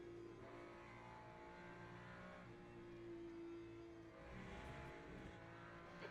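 A race car in the Le Mans Ultimate sim game working through the Porsche curves, engine droning steadily with pitch dipping as it slows, then rising again; continuous and fairly quiet.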